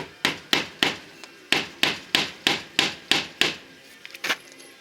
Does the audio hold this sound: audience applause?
no